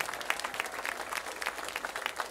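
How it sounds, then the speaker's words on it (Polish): Applause from a concert audience for the men of the Chełm Cement Plant wind orchestra at a jubilee concert, a steady, dense wash of clapping heard at moderate distance. "Ogromne brawa dla wszystkich facetów"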